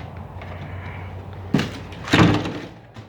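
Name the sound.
door being shut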